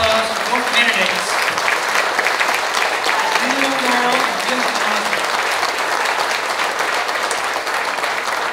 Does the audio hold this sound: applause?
yes